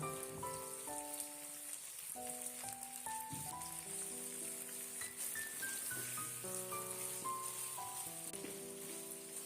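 Vegetables fry lightly in a pan with a soft, steady hiss while gentle melodic background music plays over it; the sizzle stays quiet throughout.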